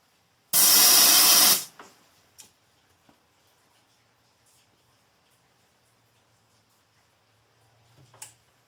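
An electrostatic powder coating gun fires a single loud burst of hissing spray onto a grounded metal piece, lasting about a second, followed by quiet clicks and a faint hiss near the end.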